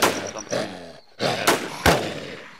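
Gunshots in the survival shooter Infestation: Survivor Stories (War Z), with several loud, sharp bursts of gunfire separated by short gaps, heard close.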